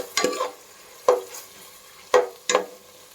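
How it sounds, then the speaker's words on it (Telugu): Soaked moong dal and onions stirred in hot oil, a spatula scraping the pan in four short strokes over a faint, steady sizzle, with nobody speaking. "పెసరపప్పు కూడా వేసుకున్నాను ఇది కొంచెం పచ్చివాసన పోయేంత వరకు నూనెలో గోలించుకోవాలి"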